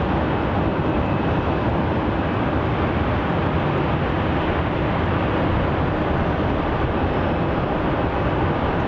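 An airliner rotates off runway 27 at Melbourne Airport, Australia, making a continuous, loud, broadband roar that holds steady throughout with no talk.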